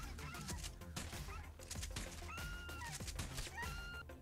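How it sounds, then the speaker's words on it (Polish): Wild turkeys gobble in Red Dead Online, rapid warbling calls repeating in short bursts over a busy in-game backdrop of ambient noise, fairly close and moderately loud. "O, i tutaj mamy pierwsze indyki."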